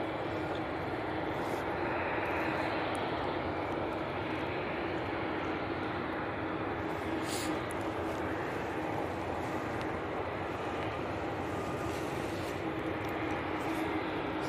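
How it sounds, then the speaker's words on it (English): A Ryanair jet arriving from Cork on approach to land at Manchester Airport gives a steady, moderate engine roar that holds evenly throughout, heard from some distance. "So this is the Ryanair from Cork coming in"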